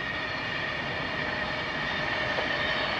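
Passenger train passing on the West Coast main line between Euston and Glasgow, heard as a steady, loud broadband rush with a faint high tonal whine throughout, no clear wheel clatter.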